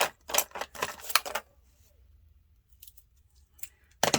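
Scissors trim a paper collage print in several quick snips: two bursts of crisp cuts close by, then a quiet pause with faint handling clicks, and one last snip at the end.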